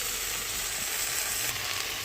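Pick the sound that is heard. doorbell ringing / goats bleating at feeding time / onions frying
onions frying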